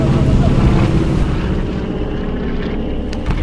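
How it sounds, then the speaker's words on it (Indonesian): A twin-engine airplane approaches from the south with a steady, loud propeller drone and low rumble that holds throughout, with some wind noise. "Ada pesawat dari selatan."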